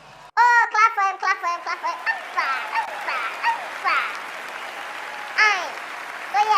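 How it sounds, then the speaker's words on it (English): A crowd at the VGMA 2024 awards show applauds, with loud whoops and shouted cheers rising over steady clapping that continues throughout. "Oh, clap for him."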